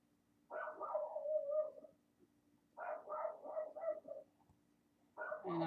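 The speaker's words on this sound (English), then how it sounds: "And I guess you can hear my dog up there barking at something." A dog barks somewhere off in another part of the house, faint and muffled, in three separate bursts of several yaps each with quiet gaps between.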